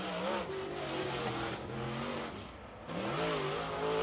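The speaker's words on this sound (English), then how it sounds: "He got some horsepower underneath that car, trying to get it to settle down" A late model race car engine revs and surges at a speedway during qualifying, its pitch climbing and dropping in repeated waves, loud and steady throughout.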